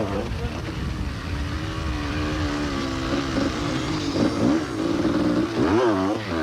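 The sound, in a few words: off-road motorcycle racing home, Camel Sun City 400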